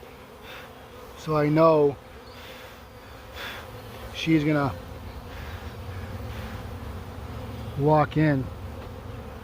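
Honey bees buzz steadily around a swarm being caught, with a person talking briefly over the hum at three points.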